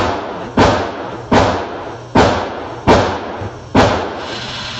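Gunshots at an indoor gun range, fired by a first-time shooter: five loud, sharp reports spaced about 0.75 seconds apart, each with a short decaying tail, and no talking between them.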